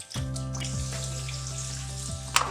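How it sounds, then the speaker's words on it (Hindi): Onions dropped into hot ghee in a pan for spicy white pulao, a steady loud sizzle starting abruptly and continuing alone with a low hum beneath. "अब घी गर्म हो गया, इसके अंदर हम प्याज ऐड करेंगे।"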